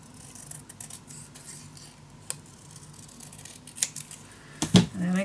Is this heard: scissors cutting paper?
yes